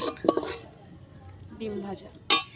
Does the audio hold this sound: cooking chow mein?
yes